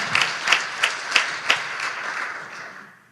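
Round of applause from a conference audience at a Black care experience event, starting with a few loud, distinct claps and then settling into steady crowd clapping that fades away near the end.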